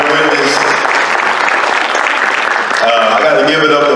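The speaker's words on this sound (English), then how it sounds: "Give yourselves a round of applause for coming out here" Audience applause at a high school jazz concert, sustained clapping with a shift midway, mixed with cheering voices and some tonal sound underneath.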